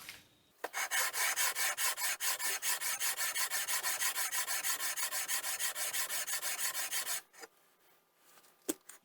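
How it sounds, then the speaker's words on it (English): A mini lathe saddle is lapped against its bed, giving a rapid, rhythmic metallic rasping of many quick back-and-forth strokes, close and steady for about six seconds before stopping. "I won't be fighting it as I'm trying to stroke backwards and forwards in the lapping process"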